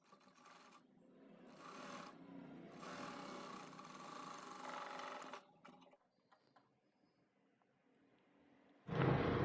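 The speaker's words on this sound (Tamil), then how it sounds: "இதையும் நல்லா மடித்து தைக்கணும்." Sewing machine stitching the folded hem of a newborn baby dress, running in several bursts of steady rapid clatter with short pauses, then a quieter stretch and an abrupt louder burst at the end.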